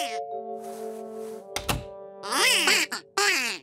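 Cartoon ducks quacking in short nasal bursts after a sustained tone and a loud thunk, several squawking calls close and clear with music-like tones beneath.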